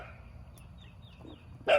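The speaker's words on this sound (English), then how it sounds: "who are you barking at?" A single dog bark sounds near the end, short and fairly close, against a quiet outdoor background with faint geese calling earlier.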